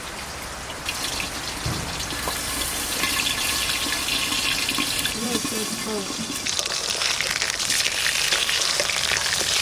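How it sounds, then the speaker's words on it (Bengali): A fish from Odisha's sea fries in mustard oil over low heat, giving a steady, fairly loud crackling sizzle. A few faint voice-like sounds are mixed in briefly. "আস্তে আস্তে জাল দিয়ে মাছটা ভেজে নিচ্ছি"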